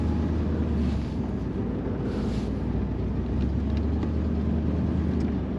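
A 10,000-original-mile 1972 Chevrolet Corvette driving on dry roads, a steady low engine drone with heavy road and wind roar heard from inside the car, continuous and loud.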